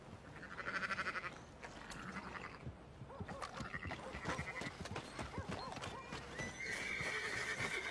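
A filly neighs and whinnies loudly nearby, with hooves clip-clopping and shuffling between calls, then a second rising whinny near the end.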